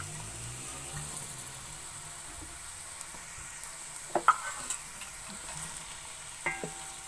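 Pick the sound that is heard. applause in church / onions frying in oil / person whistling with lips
onions frying in oil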